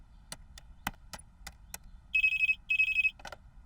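Telephone ringing in an animated BoBoiBoy cartoon: a few sharp clicks, then two short bursts of electronic trilling ring, clear and close, with no talking.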